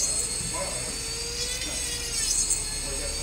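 A dental lab drill shapes a plaster model, giving a steady high-pitched whine with a gritty grinding texture as the bit bites into the plaster, running close and continuously.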